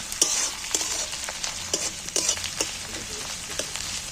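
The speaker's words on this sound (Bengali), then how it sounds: "এইটাকে একটু আলাদা করে নিয়ে এই পেঁয়াজের সাথে একটু ভেজে নেব" Ginger-garlic paste frying with onions in a pan for an egg dish sizzles steadily, broken by repeated sharp scraping stirs at an uneven rhythm, close and fairly loud.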